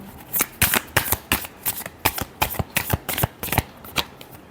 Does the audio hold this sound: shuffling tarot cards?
yes